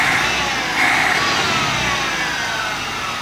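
Subaru Brumby engine fitted with a Weber carburettor, idling while warming up with the choke on, a steady broad rumble and hiss, close and constant, no voices.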